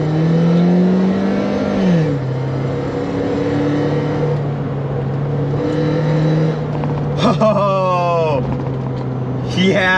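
A BMW Z3 accelerates with a loud, close engine note that climbs, then drops at a gear change and carries on as a steady drone. Later, rising and falling sweeps break in, with a voice briefly audible.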